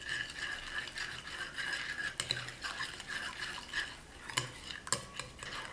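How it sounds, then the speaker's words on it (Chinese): Beaten eggs mixed with yeast and sugar stirred in a bowl, a continuous close scraping whisk with a few sharp utensil clinks against the bowl near the end. "继续搅匀。"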